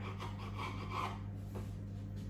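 Excess pastry being trimmed from homemade sausage rolls, a close, steady scraping and rubbing that continues for a couple of seconds with no talking.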